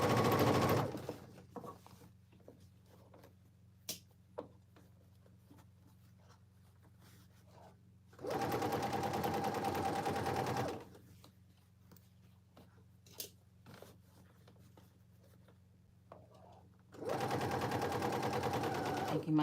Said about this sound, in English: Making sure I'm not sewing through any additional layers except this single one in the pocket